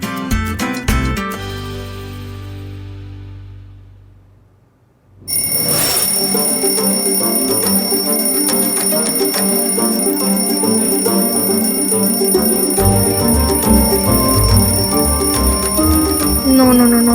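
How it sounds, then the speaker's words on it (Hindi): A ringing alarm clock sounds continuously and loudly for most of the stretch, with a bright metallic bell tone after a brief fade and restart, as people in a comedic household scene react nearby. "कोई बंद करो इस अलार्म को।"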